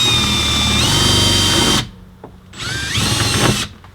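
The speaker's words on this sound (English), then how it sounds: "Instead of drilling straight on, sort of put it on an angle and whittle away at it." A power drill works at an angle to drill out rivets while a tow bar receiver hitch is fitted on a 2004 Volvo XC70, two loud whirring bursts with shifting pitch separated by a short quiet pause.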